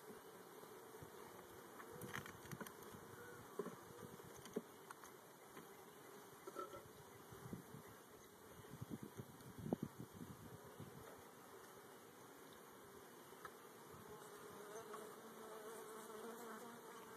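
Honeybees swarming around a hive during installation, a faint, continuous buzz of many insects with scattered nearby knocks and rustles.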